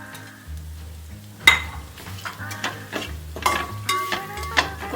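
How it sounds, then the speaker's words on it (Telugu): Prawn fried rice with cashews and fried onions is stirred in a hot pan: a soft, steady sizzle broken by several sharp scrapes and clinks of a utensil against the pan, with no talking. "మనం ముందుగా వేపి పెట్టుకున్న జీడిపప్పు అండ్ ఆల్సో ఫ్రైడ్ ఆనియన్స్ కూడా వేసేసి కలిపేద్దాం"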